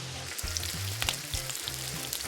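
Bacon sizzles and crackles steadily in a hot pan as the strips crisp up, a dense continuous frying hiss with small pops scattered throughout, close and fairly quiet.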